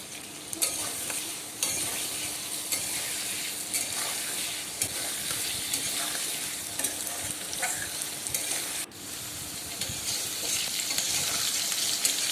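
Potatoes frying in a pan with green chili and nigella seeds, a loud steady sizzle broken by the scrape and clatter of stirring, heard close with no talk.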